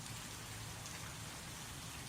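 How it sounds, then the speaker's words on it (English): Pouring rain outside a screened-in porch in Florida, a steady, faint hiss of dense drops with no break and no voices. "it is pouring rain here"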